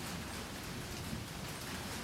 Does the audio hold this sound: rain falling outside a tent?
yes